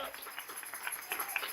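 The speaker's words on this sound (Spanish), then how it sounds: "Denle un aplauso al Señor" A church congregation applauds, a faint, scattered patter of clapping with voices speaking over it.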